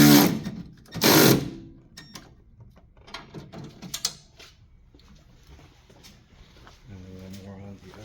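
Strut tower brace bolts on a 2007 BMW E85 Z4 being tightened with an Allen key and a socket, heard as a few sharp metallic ratcheting clicks and clanks, close and uneven, with someone speaking at the end.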